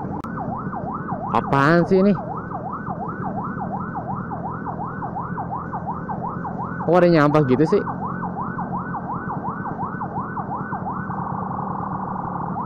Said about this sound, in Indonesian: nggak jelas banget nih ambulan